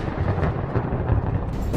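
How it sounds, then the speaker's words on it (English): Thunder from a thunderstorm in a Plotagon animation, a loud, close, continuous low rumble rolling on without a break, with no voices over it. "Oh no, there's a thunderstorm."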